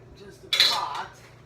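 A metal pot clanks once in a home kitchen while muffins are taken out, a short near clatter with a brief ringing tail in an otherwise quiet room.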